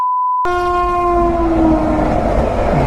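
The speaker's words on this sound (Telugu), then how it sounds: "మంచి స్పీడ్లోనే వెళ్తుంది ట్రైన్" A fast train rushes through a railway level crossing with its gate closed. Silence gives way to a loud, sustained multi-tone horn blast, then a rumbling roar of the passing cars.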